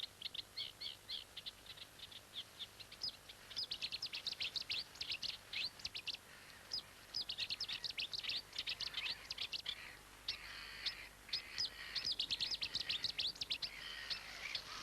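Repeated sharp, chirping calls of a Cetti's warbler in rapid bursts, fairly faint against a quiet outdoor background, rival males calling back and forth with no voices.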